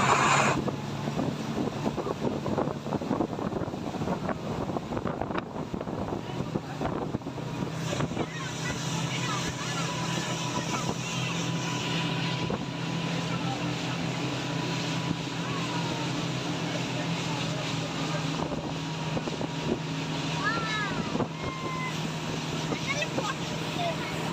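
A boat motor drones steadily while the boat crosses open sea off Marina Bandar Al Rowdha, with wind buffeting the microphone and people's voices over the engine hum.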